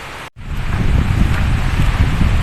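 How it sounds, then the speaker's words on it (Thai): Strong wind blows outdoors in a steady, roaring rush that buffets the microphone, loud and continuous after a brief cut at the start. "ลมแรงเหมือนเดิมนะคะ"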